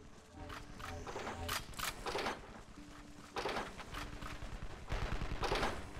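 Guns fire in the video game Evil Genius in quiet, irregular bursts of rapid shots, mixed with other game sounds and tones.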